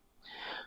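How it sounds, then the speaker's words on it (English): A single short breathy gasp, part cough and part yawn, rises and fades in under a second, faint and close with no talk around it. "That was like a cough and a yawn at the same time"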